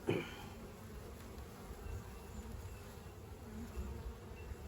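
Agitated honeybees buzz around an opened beehive, a faint, continuous drone swelling slightly at moments, close by with no talking.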